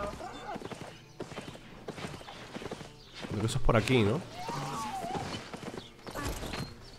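Horse hooves clip-clop in a video game as a mount trots near a forest outpost, a steady rhythmic patter under a player's talk, swelling louder midway with a brief whinny-like cry.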